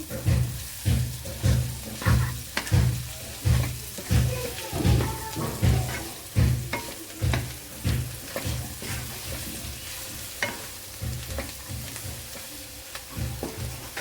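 Raw prawns and cashews fry with mint, coriander and curry leaves. A constant sizzle runs under rhythmic stirring strokes that scrape the pan about every second, fading slightly toward the end.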